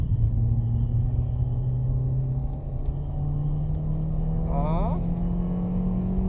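A Citroën Xsara engine drones steadily and loudly from inside the car on track at Autodrom Most, then rises in pitch as the throttle opens, with brief speech over the top.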